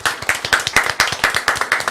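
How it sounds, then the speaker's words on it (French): An audience claps together to honour the team behind the launch of Loisirs Pays d'Arles, a steady run of close, fairly loud individual claps with no talk over them. "je pense qu'on peut applaudir très fort toute l'équipe de Loisirs Pays d'Arles"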